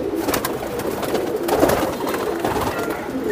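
Racing-line pigeons in a loft keep up a dense, continuous cooing and murmuring, close and fairly loud, with no clear voices over it.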